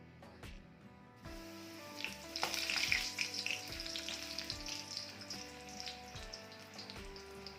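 Battered spinach leaves for bhaji sizzle and crackle in hot oil, a continuous bright frying hiss that swells as a leaf drops in, with faint clinks of a utensil against the pan.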